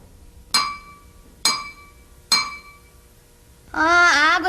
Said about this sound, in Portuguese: Agora presta atenção no que vai acontecer quando eu bater com a baqueta no copo